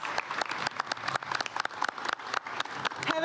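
An audience at the Take Off Istanbul 2023 summit applauds the top three teams, with dense, steady clapping filling the whole moment at close range.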